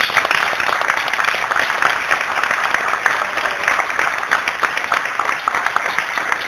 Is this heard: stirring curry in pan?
no